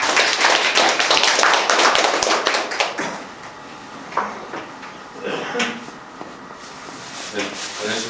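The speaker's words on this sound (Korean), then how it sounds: "환영의 박수 부탁드립니다." An audience at an indoor political forum claps to welcome a guest speaker. A burst of clapping fades out over about three seconds, followed by scattered taps and shuffling.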